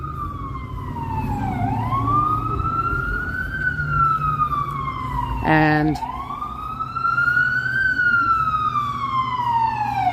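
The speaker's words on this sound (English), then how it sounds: "I'll wait till the ambulance goes by." An ambulance siren wails past on a New York City street, its tone sweeping up and down steadily and loudly, with a brief burst of horn-like blare midway while a person speaks nearby.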